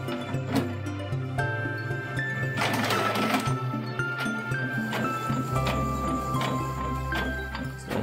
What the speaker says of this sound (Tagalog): nagpe-print na yung ating printer